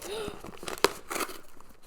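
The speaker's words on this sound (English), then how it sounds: "I'm destroying this box" Cardboard being ripped and crinkled by hand, with scraping tears and one sharp snap, close up; a voice sounds briefly at the start.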